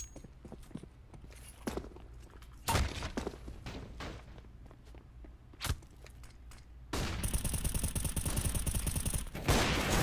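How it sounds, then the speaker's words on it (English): Gunfire in Counter-Strike: Global Offensive during a competitive esports match, with scattered single shots and clicks, then a long sustained burst of rapid fire, plus bolt and footstep sounds, no talk heard. "Peter takes the risk, pays off though, and he's even given the time to rebolt and bust out a shot on Surreal."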